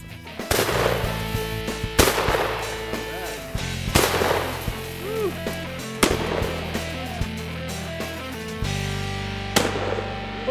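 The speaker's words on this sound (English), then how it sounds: "they got to get right up there and shoot them and see how a shotgun actually works" A shotgun fired at water-filled milk jugs at close range, giving five loud, sharp blasts spaced about two seconds apart, each with a short ringing tail, over a steady background hum and faint chatter.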